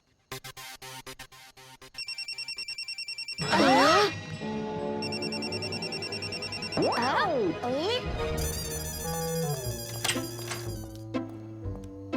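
A cartoon phone rings in repeated electronic tones amid animated sound effects, whooshes and swooping musical cues, moderately loud and busy.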